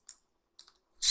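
A few separate keypresses tap on a computer keyboard while a command is typed into a terminal, two soft clicks with pauses between them, then a louder, sharper burst at the end.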